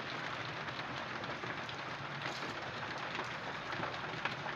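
Steady rain falls outside on a cold, wet day, a continuous soft hiss of drops on surfaces with faint scattered patters, moderately quiet and unbroken, with no voices.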